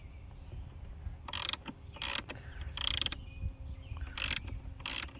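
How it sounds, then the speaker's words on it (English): A 10 millimeter wrench ratcheting to loosen the terminals on a Mercedes C300 car battery, with several short bursts of sharp metallic clicking separated by brief pauses, close and clear over a quiet background. "We're using the 10 millimeter to loosen up the terminals."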